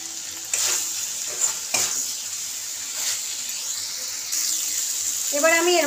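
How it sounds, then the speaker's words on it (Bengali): Spicy lemon chicken frying in a pan with a steady close sizzle, broken by scraping stirs, and a spoken voice near the end. "আর একটু ভাজবো।"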